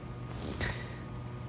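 A person gives a long, breathy yawn up close, with a drawn-out inhale that swells in the middle and fades away, with no speech.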